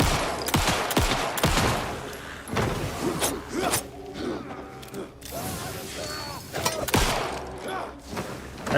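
Rapid, loud gunshots and heavy thuds from the horror game Alan Wake 2, clustered in dense bursts over a busy, rumbling game soundscape.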